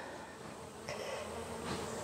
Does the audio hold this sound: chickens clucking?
no